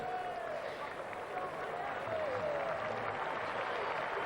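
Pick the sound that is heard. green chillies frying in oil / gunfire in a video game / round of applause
round of applause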